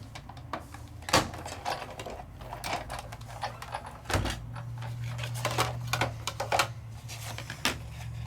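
A card base in a deep embossing folder is cranked through a Sizzix die-cutting machine, steady grinding and rolling with clunks and sharp creaks as the folder is pressed, close and moderately loud, no voices.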